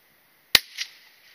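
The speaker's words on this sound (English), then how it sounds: "Just shot that fucking tree." A single sharp crack from a bolt-action rifle fired outdoors at a tree, loud and abrupt, followed by a brief echo off the surroundings and then quiet.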